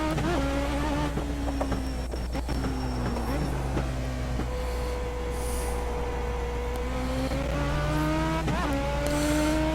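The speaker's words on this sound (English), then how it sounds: "Let's do a couple of slower laps here and get the tires warmed up." Simulated race car from the iRacing game running slow warm-up laps, engine note rising and falling through gear changes as a steady, continuous drone with a faint tire squeal.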